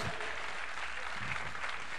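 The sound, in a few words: church congregation applauding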